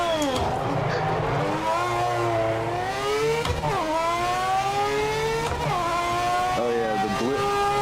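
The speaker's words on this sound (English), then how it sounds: "Yeah, the auto blip sound is beautiful." A race car engine in the video game Project Motor Racing revs and downshifts with sharp automatic throttle blips between gears, loud and close, pitch sweeping up and down repeatedly.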